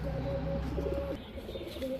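A pair of large Narayanganj pigeons coo softly and steadily nearby, low rolling calls repeating against a quiet background with no talk.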